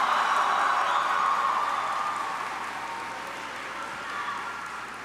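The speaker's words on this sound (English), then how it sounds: "let's give a hearty applause for Jamal Anderson" At a 2019 high school graduation ceremony, the audience claps as a steady wash of applause that slowly fades and then swells slightly near the end.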